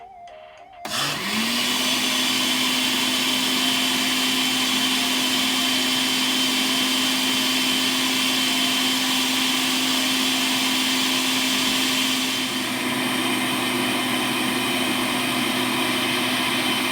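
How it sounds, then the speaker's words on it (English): A blender whirs up to speed and runs steadily while blending Irish moss with a peanut drink, a loud, constant motor whine that shifts slightly in pitch near the end, with no talking. "Let's stop my blender to see if it's done."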